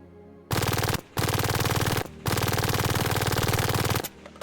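Rapid SMG fire from a video game unit, three loud sustained bursts of fast, evenly spaced shots with brief pauses between them, close and dominant.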